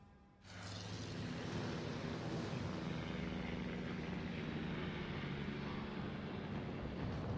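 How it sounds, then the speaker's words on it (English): Carrier Midway strike planes from World of Warships drone in on an attack run, a steady loud propeller-engine roar that rises quickly and holds without pause. "those Midway strike planes do have a little bit more time"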